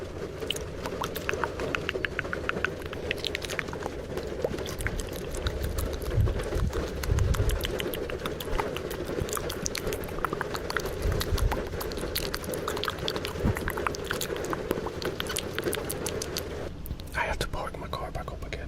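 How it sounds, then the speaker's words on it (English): Dense, steady rain drums on the roof of a Japanese-market car, a constant patter of close, crackling drops during a heavy storm, lasting throughout, briefly easing near the end. "Started raining and storming like crazy"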